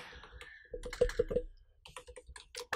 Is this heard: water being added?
no